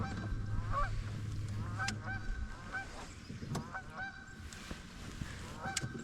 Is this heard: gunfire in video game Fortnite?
no